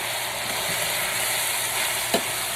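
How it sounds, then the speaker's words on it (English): A Field Roast sausage and butter bean one-pot dish being stirred, with a soft steady sizzle and scraping and one brief clink near the end, heard alone. "let's give this a quick little stir around"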